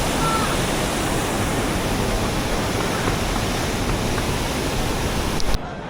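The waterfall at Cheonggyecheon Stream in Seoul pours with a dense, unbroken rushing hiss, loud and close, holding steady throughout before a brief bump near the end.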